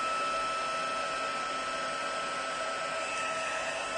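A heat gun blows steadily to melt embossing powder for gilded leafing on a paper butterfly, a loud, even whooshing roar that holds without a break from start to finish.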